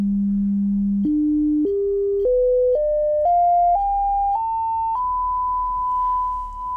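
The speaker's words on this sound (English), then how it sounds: "I'm just going to ramp up the signal in 100 hertz increments." A sine test tone plays through a KLH Model Five speaker, stepping upward in pitch in about nine even jumps roughly every half second, clean and steady with a faint hum underneath.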